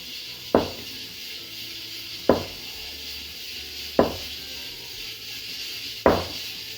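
A knife cuts through a block of homemade tofu onto a cutting board in four sharp, evenly spaced chops, each a crisp close thud with a short tail, with no talk.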